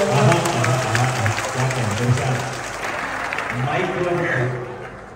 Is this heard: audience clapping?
yes